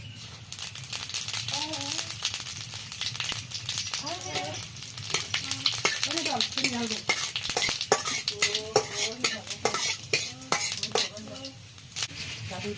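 Whole cumin seeds crackle and sizzle in hot oil while a spoon scrapes and rattles against the pan, with a person talking intermittently over the frying.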